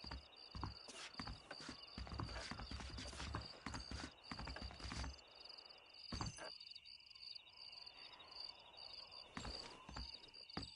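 Horses walking in the Red Dead Redemption video game, a steady clip-clop of hooves with faint crickets and outdoor ambience, with a short pause before hooves resume, no talking.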